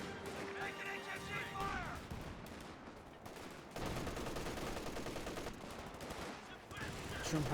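Gunfire in a Company of Heroes 2 match, dense bursts of machine gun and rifle shots with heavier booms, steady and loud across the whole stretch, beneath ongoing commentary talk.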